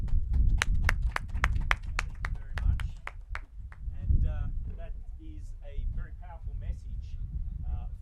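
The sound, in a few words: audience applause for a panel of young speakers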